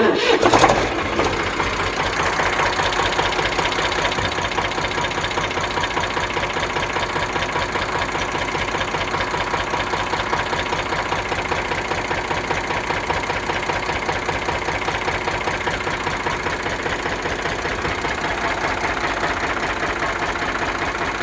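An Eicher 485 tractor engine with self-start idles loudly and steadily at close range, a continuous rapid diesel chug with no pauses after a brief louder start.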